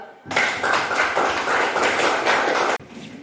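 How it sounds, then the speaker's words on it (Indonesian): A classroom audience gives a round of applause for a student presentation group, a dense burst of clapping that fills the room for about two and a half seconds, then cuts off. "Kita berikan aplaus untuk kelompok 2"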